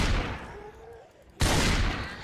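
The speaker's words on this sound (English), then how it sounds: "So if I just shoot right now." Gunfire in the zombie survival video game Project Zomboid: one sudden loud shot bursts in partway through, its blast ringing and filling the rest of the moment after a quieter lead-in.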